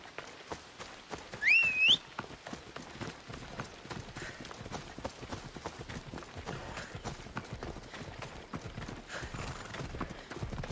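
Horse galloping in the video game Assassin's Creed Odyssey, a fast, steady rhythm of hoofbeats throughout with a short whinny near the start, moderately close.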